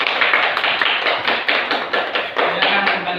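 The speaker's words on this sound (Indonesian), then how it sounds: "Kita tepuk tangan dulu untuk kelompok 1." A classroom of children applauds a group with steady, dense clapping that comes in rhythmic waves at a moderate distance.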